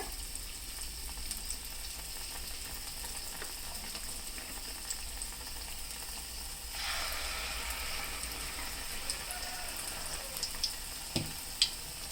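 Mysore bajji (bonda) batter balls deep-frying in hot oil give a steady, soft sizzle throughout, brightening partway as more batter goes in, with a few sharp clinks near the end.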